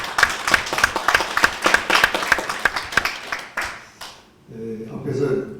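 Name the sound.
audience applause welcoming speaker at symposium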